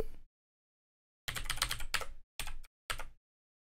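Quick bursts of computer keyboard typing as a login password goes in, a clattering run of keys followed by two short separate clusters of clicks, close and clear with silence between.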